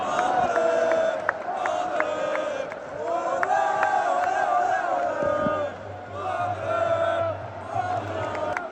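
Football stadium crowd at a Morocco match, a dense, loud roar of massed chanting and singing with sustained tonal voices and cries, continuous throughout with slight surges.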